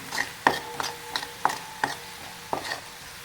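Chutney stirred and sautéed in oil in a pan over a low gas flame, with a soft continuous sizzle broken by several sharp scraping stir strokes at irregular intervals.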